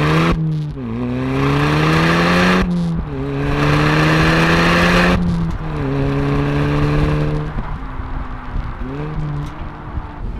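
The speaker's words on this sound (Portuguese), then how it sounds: "o som do 2 litros TFSI está especialmente trabalhado para soar com uma voz um pouco mais grossa do que um TT convencional" Audi TT with a 2-litre TFSI engine breathing through four exhaust outlets, loud and close, revving up through several rising gear pulls, each ending in a brief shift drop, then easing to a lower throttle hum.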